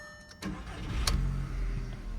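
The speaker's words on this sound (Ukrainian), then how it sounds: "автомобіль завівся легенько" A Skoda Octavia's engine, with 171,000 km on it, cranks and catches, then settles into a steady, low idle rumble. No one speaks.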